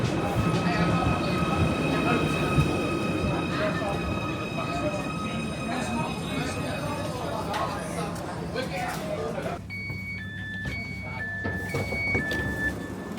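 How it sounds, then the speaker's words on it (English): A train pulls into Sandhills station on the Southport line, a steady rail rumble filling the platform with brake tones and squeals near the end, under background talk. "So when the next Southport train arrives, I'm going to board it"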